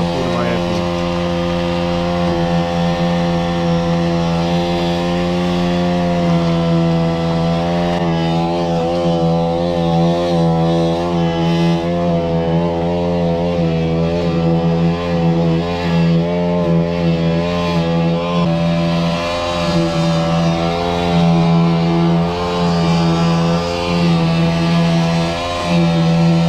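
A concrete vibrator runs steadily while compacting concrete during the pour of a Teriva beam-and-block floor slab, a loud continuous droning hum with strong harmonics that shift slightly in pitch, close by, with faint voices underneath.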